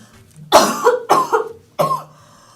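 Three loud, harsh coughs from someone with a cold, close to the mic, the first two quickly paired and the third after a short pause.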